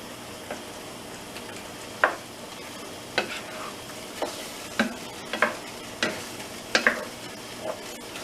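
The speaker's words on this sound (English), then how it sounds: "As you can see, as this is mixing, it's starting to thicken up very well." A spoon stirs apple pie filling thickened with cornstarch in a pan, with soft bubbling beneath scattered light scrapes and clicks, close and steady without talk.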